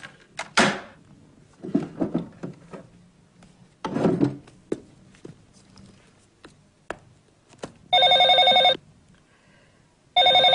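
An old telephone bell rings in two loud bursts near the end, after scattered knocks, rubbing and handling noises.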